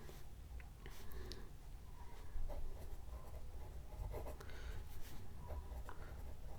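Pen or marker scratching across a writing surface as an algebraic expression is written out in a math lesson, steady strokes and taps close up over a constant noisy background, no talking.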